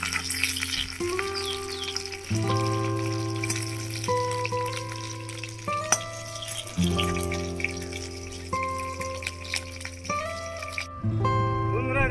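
Fish frying in oil in a village kitchen, a steady sizzle running through the whole stretch beneath a loud melodic music track.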